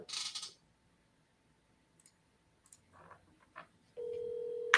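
A telephone call being placed to someone taking a payment: a few soft clicks and brief key-press sounds, then a steady, loud dial or ringing tone that holds through the final second, with no talking.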